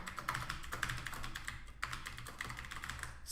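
Someone types Python code on a keyboard in a code editor, tapping out steady, rapid keystrokes close up, with a few short pauses and a sharper key hit near the middle, and nobody speaking.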